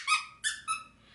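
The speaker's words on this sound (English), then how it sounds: "They make different squeaker sounds" A plush baby toy with two squeakers, one high-pitched and one lower, gives three short bright squeaks in a row, close and clear against a quiet room, the last fading into a softer tail.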